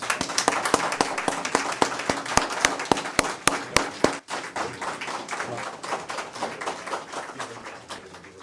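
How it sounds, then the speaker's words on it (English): Audience applause at a fire department awards and recognition ceremony, opening with a run of sharp, evenly spaced loud claps before settling into dense, steady clapping from many hands that continues to the end. "One more time for another round of applause."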